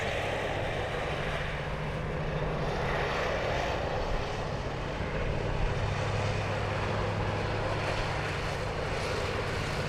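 A Malaysia Airlines Airbus A330, pushed back from gate 33 at Sydney Airport, sends out a steady, moderate engine rumble and whine that lasts throughout, heard alone without talk.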